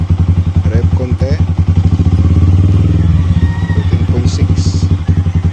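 A Kawasaki Rouser motorcycle engine idles in a steady, close, loud thump, rising briefly in a rev and settling back. A voice speaks over it near the start.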